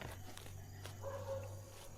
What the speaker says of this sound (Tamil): நாய் உள்ள வந்துருச்சு